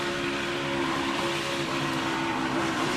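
Onboard a Joey Logano Ford stock car at the Daytona 500 as the driver starts to lift off the throttle, a loud, steady engine drone with a sustained low hum filling the cockpit.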